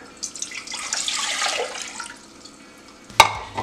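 Water splashes into a saucepan for homemade playdough, a rushing pour for about two seconds, then a sharp clunk near the end, close and fairly loud with no voices.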